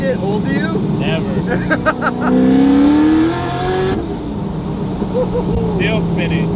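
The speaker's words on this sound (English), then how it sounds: "You never get tired of these downshifts." Loud C6 Corvette engine revving hard and blipping through downshifts, a roaring rising and falling exhaust tone heard from inside the car, with voices talking over it.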